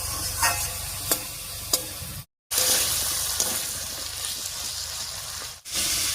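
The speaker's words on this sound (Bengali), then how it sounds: "আলুটা এই তেলের মধ্যেই আস্তে আস্তে ভাজা হবে" Potato pieces fry in a generous amount of oil in a pan, a constant crackling sizzle broken by sharp taps and scrapes of a spatula as they are stirred, with one brief dropout.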